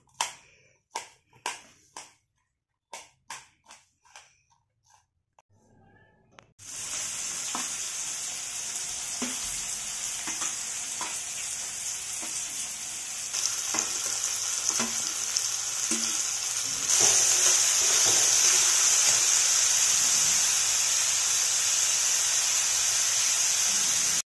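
Eggs and onion frying in a pan for egg chutney: a few sharp clicks and taps give way to a steady, loud hissing sizzle that swells louder partway through, with no talk.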